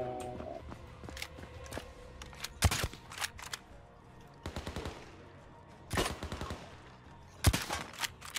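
Gunfire in the zombie shooter Overkill's The Walking Dead: repeated sharp bursts of rapid automatic fire in several clusters, close and loud, with fainter single shots scattered between the volleys.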